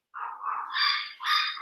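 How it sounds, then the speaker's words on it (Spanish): A dog yelping and barking in a short high-pitched whining run of about three rising cries, close and fairly loud, with no speech. "disculpen la bulla, pero aquí hay perros, hay loros"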